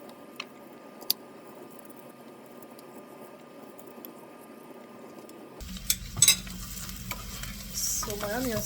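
Chopped onion frying and browning in a pan for a curried potato and leek soup, a soft steady sizzle with occasional utensil taps, growing busier and louder with stirring clatter in the last few seconds; no talking.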